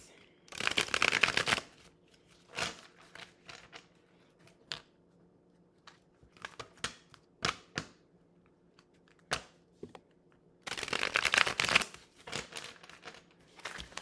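Tarot cards are shuffled by hand in two loud riffling bursts, one at the start and one near the end, with scattered softer card taps and slides in between.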